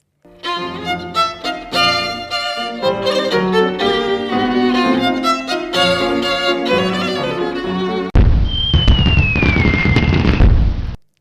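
Fireworks at a wedding celebration, a loud crackling burst with a whistling rising-then-falling shriek, heard right after a stretch of busy orchestral music.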